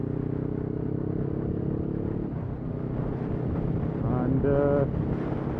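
A 500 motorcycle riding along a road with a steady engine drone and wind rush, heard close, with a rider's voice briefly over it near the end.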